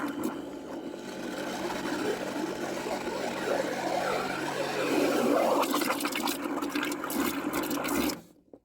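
A Karcher pressure washer lance blasts water down into the mouth of a drain, producing a loud, steady rushing hiss with churning, gurgling water that holds for about eight seconds and then cuts off abruptly.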